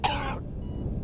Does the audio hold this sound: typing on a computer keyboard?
no